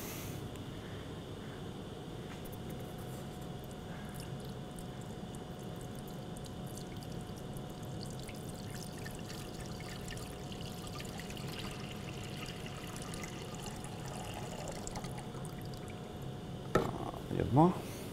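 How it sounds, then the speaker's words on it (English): Tap water trickling steadily into the drum of a slake durability test apparatus, a soft continuous pour under a person talking, with a brief louder clatter near the end. "Before we start the test, I'm going to add water."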